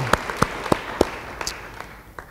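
A church congregation claps during a sermon: a handful of separate, sharp handclaps spaced irregularly across about two seconds, fairly close and moderately loud, with no one talking over them.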